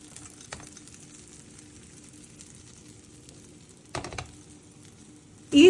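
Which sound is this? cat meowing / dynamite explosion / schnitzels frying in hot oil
schnitzels frying in hot oil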